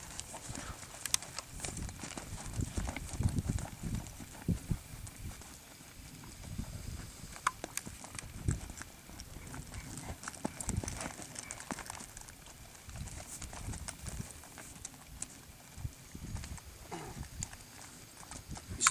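Horse's hooves jogging on ground, a continuous irregular clip-clop of footfalls close by over a long stretch, with occasional faint voice in the background.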